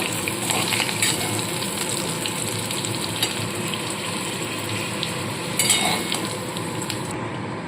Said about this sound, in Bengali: দেখুন বন্ধুরা আলুগুলো বেশ লাল লাল ভাজা হয়ে গেছে